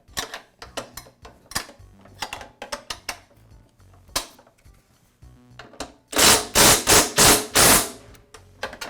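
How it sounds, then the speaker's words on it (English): Wrench tightening a bolt on the rear baffle of a Toro lawn mower: scattered light metallic clicks and taps, then a loud run of about five rapid ratcheting bursts near the end, close up with no talking. "now I can tighten up the first bolt we installed"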